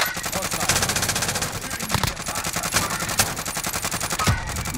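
Automatic gunfire in a video game shooter rattles in continuous rapid bursts, loud and dense, with players' voices partly under the shooting.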